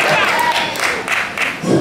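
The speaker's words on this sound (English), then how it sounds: "What if they just never stop clapping?" A concert audience on opening night keeps clapping and applauding steadily, a dense close wash of many hands with faint cheers mixed in.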